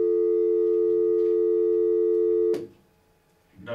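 Steady telephone busy tone on a phone line after the caller hangs up, loud and continuous for about two and a half seconds before cutting off, with a faint rustle after it.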